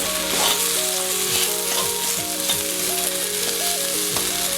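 Okra fries in a wok-style kadai, producing a loud, steady sizzle with occasional soft clinks, while melodic music plays underneath.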